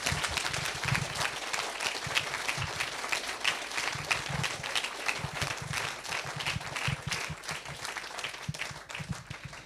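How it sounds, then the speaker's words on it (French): A French forum audience at its closing event applauds the organizing teams with lively, continuous clapping that sounds close and full and keeps an even rhythm for nearly ten seconds. "vous les applaudissiez, s'il vous plaît"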